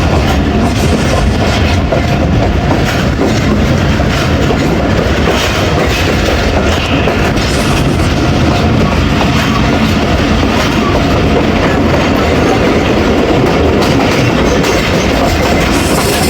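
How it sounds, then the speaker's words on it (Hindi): 48 Down Rahman Baba Express passenger train running near Fakirabad station on the Attock City to Rawalpindi route: a loud, constant rumble with rhythmic clickety-clack of wheels over rail joints, heard close from on board. "फ़कीराबाद रेलवे स्टेशन से पास होगी हमारी 48 डाउन रहमान बाबा एक्सप्रेस।"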